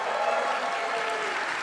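Large audience applauding and cheering at a live game demo event, a dense continuous wash of clapping and crowd noise at steady loudness throughout.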